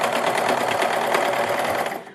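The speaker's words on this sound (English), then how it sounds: "You're cutting the fabric as you serge and finish." A serger cutting and serging fabric hums in a fast, close, even buzz that fades at the end as the machine stops, with no talk.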